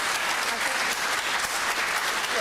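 Steady applause from an audience fills the whole stretch as a dense, continuous patter of many hands clapping at an even level.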